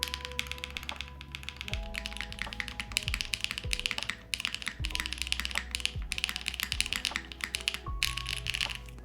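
Typing on a Vanguard65 mechanical keyboard with a solid spacebar, a rapid, close, continuous run of crisp clacks and taps at an uneven rhythm, with no talking.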